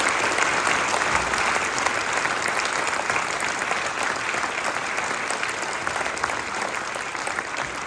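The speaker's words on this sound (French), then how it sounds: "J'aimerais bien que vous les applaudissiez." Steady, dense applause from a large crowd at a French New Year's greetings ceremony, honouring soldiers and police, loud and continuous throughout without pauses.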